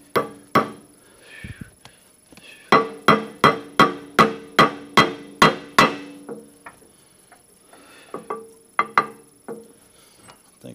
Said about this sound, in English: let's see if we can hammer this thing